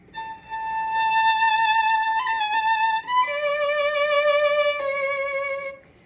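A solo violin plays a short ornamented turn, a few quick notes around a held pitch before settling on longer sustained tones, clear and close.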